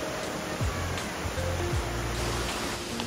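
Steady broadband rush of water flowing along a village stream beside a road during May monsoon rain, continuous and fairly close, with faint low engine-like tones and a high whine over it.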